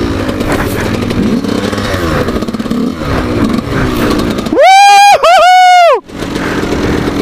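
An 85cc enduro motorcycle rides through snow, its engine droning and revving unevenly up close before a sharp high rev burst near the end, with a rider talking in French over parts of it.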